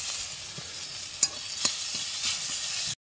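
Garlic sizzles in hot oil with chopped onion in a home kitchen pan, a steady close hiss broken by a couple of sharp spatula taps, then cutting off abruptly near the end.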